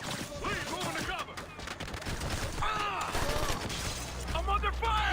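Gunfire in the tactical shooter Ghost Recon: continuous automatic weapon bursts and rattling shots under loud radio-style squad callouts, with sustained battle noise throughout and a low rumble near the end.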